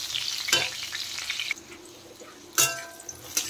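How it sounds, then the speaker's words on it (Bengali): Steady close sizzling of pointed gourd (potol) frying in a pan, with a couple of sharp scraping clanks as a spatula turns the pieces. "আর একটু ভেজে নিতে হবে"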